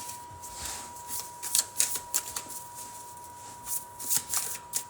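Tarot cards shuffled for a reading, a run of quick riffling and snapping bursts, some louder and crisper than others, close by with a faint steady tone underneath and no talking.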